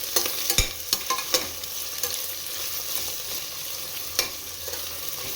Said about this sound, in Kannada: ಸೊ ಈರುಳ್ಳಿ ಹಾಕ್ಕೊಂಡು ನೀಟಾಗಿ ಫ್ರೈ ಮಾಡ್ಕೊಳ್ಳೋಣ